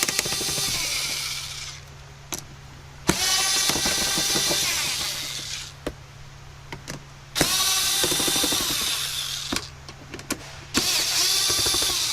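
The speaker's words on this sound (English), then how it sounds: "Remove the 4 Phillips screws." Power screwdriver spinning out Phillips screws from a cab interior panel on a 2005 Kenworth W900L truck, several bursts of whirring a second or two long separated by short pauses and clicks, close by with no talk.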